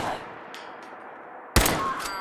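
A pipe gun in Fallout 4 fires one sharp, loud shot near the end, preceded by a faint earlier report and a few soft clicks.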